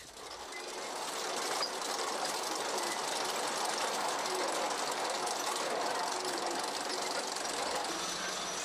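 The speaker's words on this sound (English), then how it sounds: "working with a high-tech machine which carves its way through the earth precisely and efficiently" A high-tech digging machine grinds through earth in an underground opal mine at Coober Pedy, a dense, steady mechanical roar and rattle that swells at the start, then holds loud and continuous.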